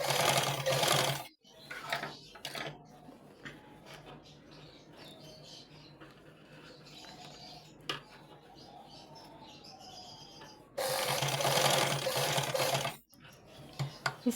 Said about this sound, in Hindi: कुछ इस तरीके से आपने सिलाई लगाते रहना है।